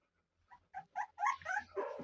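A jealous dog growls and whines in a quick series of short, rising vocal bursts that grow louder, recorded close by with no talk.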